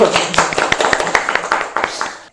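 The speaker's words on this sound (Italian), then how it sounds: "Un applauso a Edoardo." Studio audience applause for Edoardo on an Italian Taskmaster game show, a dense burst of close hand clapping, loud and steady, then tapering off at the end.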